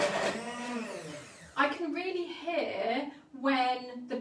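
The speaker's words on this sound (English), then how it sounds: "I can really hear when the blender is more happy" A hand blender whirs through a vegetable sauce in short bursts, its motor pitch shifting as the liquid moves, close and fairly loud, with pauses between pulses.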